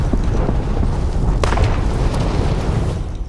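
Heavy bombs go off one after another in a chaotic shooter game, deep booming blasts and rumbling thuds piling up into a loud, continuous barrage.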